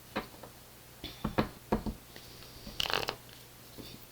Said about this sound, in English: Okay, Virgo, 3 more shuffles to go.